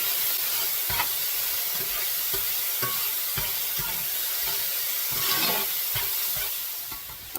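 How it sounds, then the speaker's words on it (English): Sliced mushrooms with a splash of soy sauce sizzle steadily in a hot pan, a loud continuous frying hiss broken by occasional stirring scrapes, with no voices. "I'm going to continue to cook these mushrooms till they shrink down"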